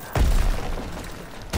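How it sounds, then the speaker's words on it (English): A sudden loud boom from an explosion in the World War II shooter Call of Duty: WWII bursts out and rumbles for about a second, then decays, with another sharp blast starting right at the end. "Oh, the explosion!"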